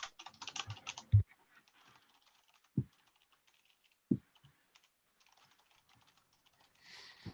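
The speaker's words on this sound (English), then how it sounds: "This is the comment I'm typing." Typing on a computer keyboard during an online meeting, quiet, close keystrokes in bursts with a few louder thumps and pauses between runs, no talking.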